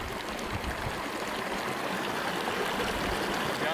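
Near the source of the Beas River on a Himalayan trek to Beas Kund, a mountain stream rushes in a dense, constant roar of water, loud and close, with no break and no voices.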